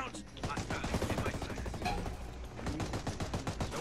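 Hostile gunfire in the tactical shooter Ghost Recon Breakpoint, with rapid automatic bursts cracking continuously at close range amid combat noise, with some voices in the mix.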